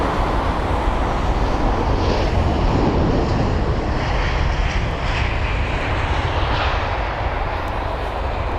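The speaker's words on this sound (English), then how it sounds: "the aircraft inbound is going to be the A320-200 with the reg Golf Echo Uniform Papa" Airbus A320-200 airliner landing on runway 27R at London Heathrow, a broad continuous jet engine roar that holds steady and loud throughout with no voices.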